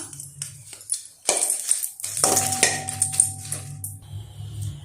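Dried red chillies roasting lightly in oil in a kadai, with intermittent metallic clinks and scrapes of a utensil against the pan and a soft sizzle underneath, close and moderately loud, no talking.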